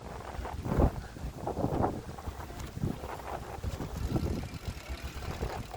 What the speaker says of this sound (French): Là, il y a du vent, hein.